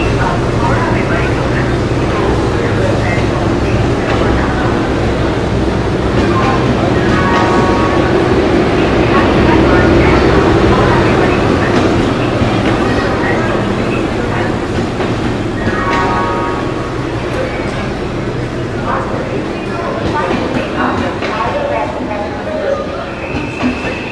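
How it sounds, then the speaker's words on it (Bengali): Kulik Express, a passenger train with a Vistadome coach, standing and moving along a station platform, its heavy rail rumble and wheel clatter running continuously while a person talks over it. "ট্রেন কিন্তু ঢুকছে আমাদের কুলিক এক্সপ্রেস।"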